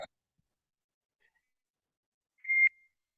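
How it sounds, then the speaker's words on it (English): A single short electronic computer text-message notification beep sounds once in near silence, bright and clear, lasting about a quarter second before fading. "Is that you beeping or me beeping?"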